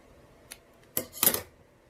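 Scissors snip through a dried herb smoke bundle at close range: a faint click, then two crisp, loud cuts about a quarter second apart in an otherwise quiet room.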